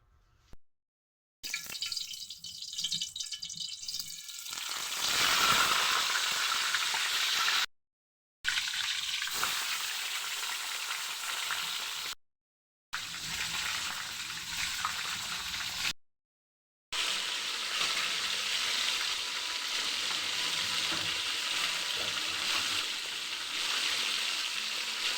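Fish frying in oil, giving a steady broadband hiss and crackle close by that lasts the whole time and is broken by several brief silent gaps, with no speech.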